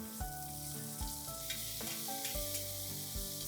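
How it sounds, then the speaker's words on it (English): Roughly cut red onions frying with garlic and asafoetida in a pan, a steady close sizzle with a few stirring scrapes and no talk, over a sustained musical background. "Time to add in roughly cut red onions."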